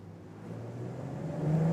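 A BMW M440i or Audi S5 convertible engine hums and rises in pitch as it accelerates, a smooth growing drone with no voices.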